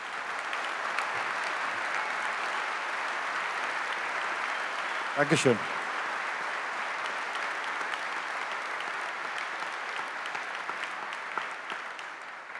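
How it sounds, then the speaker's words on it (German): A members' meeting audience gives coach Sandro Schwarz a steady, sustained round of applause, with someone briefly speaking over the clapping midway. "vielleicht nochmal einen donnernden Applaus für Sandro Schwarz"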